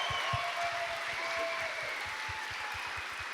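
An audience at a live podcast show at a London podcast festival gives sustained applause, a dense wash of clapping from a large crowd with low thumps underneath throughout.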